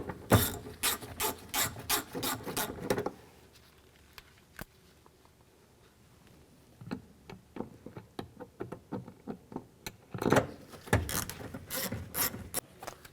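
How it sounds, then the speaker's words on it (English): A ratchet drives in the bolts behind the front exterior door handle of a 2007–2014 GMC Sierra 3500. Quick runs of close, rapid clicking come in two spells with a quiet pause between them. "Now install the bolts. And the bolts behind the handle."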